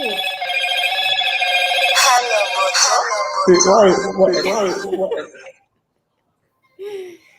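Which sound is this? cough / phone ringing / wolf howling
phone ringing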